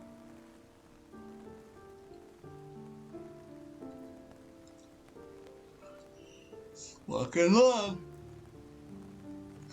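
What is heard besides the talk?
rain falling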